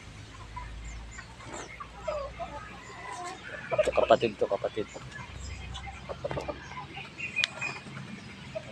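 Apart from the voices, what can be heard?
chicken clucking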